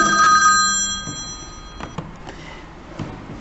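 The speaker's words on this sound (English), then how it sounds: "my phone rang there" A mobile phone rings during a maths lesson, a bright electronic tone with steady harmonic pitch sounding loudly at first, then fading out quickly after about a second, leaving faint taps and room noise.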